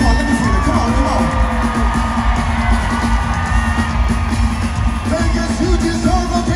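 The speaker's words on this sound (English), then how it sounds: "let's give them a big round of applause" A loud concert crowd in Las Vegas cheers and whoops continuously, with shouting voices blending into a steady roar of excitement.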